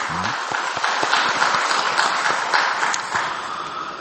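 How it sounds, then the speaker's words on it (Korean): A church congregation claps together in steady, dense applause. It runs throughout at a fairly loud level with no voice over it. "영광과 박수를 주님께 돌려주십시오"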